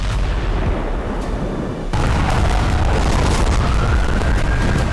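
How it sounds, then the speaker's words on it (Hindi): Iranian missiles striking Israeli cities, heard as a continuous loud roar of explosions and rumble that swells sharply midway and stays dense and heavy to the end. "तेल अवीव से लेकर इजराइल के कई शहरों पर ईरानी मिसाइलें बरस रही हैं"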